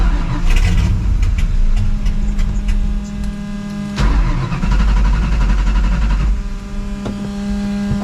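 A 600hp procharged New Edge Mustang GT cranks and fires, then settles into a loud, lumpy idle with sharp blips and a few brief cut-outs and restarts, close by and unaccompanied by speech.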